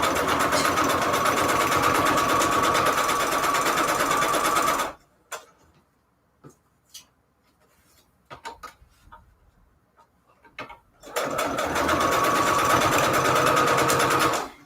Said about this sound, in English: If you think my sewing machine is making a weird sound lately, let me know in the comments down below.